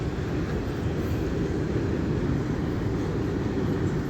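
A passing train gives a loud, steady, broadband rumble and roar that holds constant throughout, with no voices.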